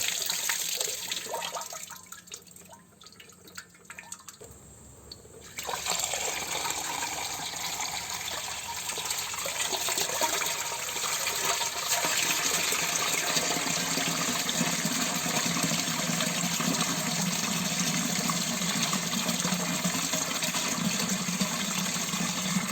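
Water gushes hard and continuously during the restoration of a Belarus MTZ-52 tractor engine, with a dense loud hiss that starts quieter, then surges after a few seconds and stays strong and steady.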